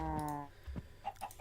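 Blocky Minecraft chickens cluck in short, close, separate calls, a few quick clucks following a lower drawn-out sound, with no talking over them.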